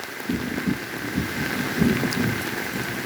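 Light rain falls in a forest as a soft, continuous hiss with scattered low patters and drips, fairly close and steady throughout.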